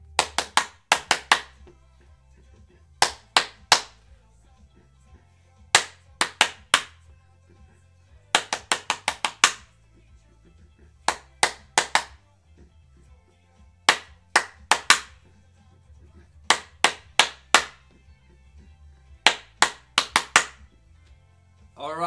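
A group playing a clapping game claps in sharp, tight clusters of two to four claps, separated by brief silences, repeating in a quick rhythmic pattern over about twenty seconds.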